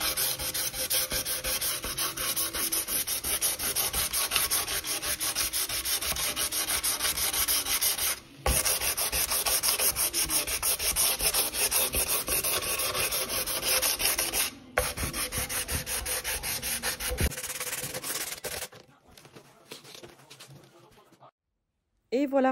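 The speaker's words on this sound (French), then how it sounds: "c'est très, très important de venir poncer comme ceci" Hand sanding of a wooden kitchen island during a renovation, a continuous dense scraping rub kept up for many seconds with two brief pauses, close and loud before trailing off near the end; no speech is heard.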